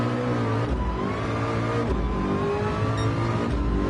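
Race car engine in a VR 24 Hours of Le Mans racing game, a continuous loud revving drone with repeated shifts in pitch as the car accelerates and changes gear, close and steady.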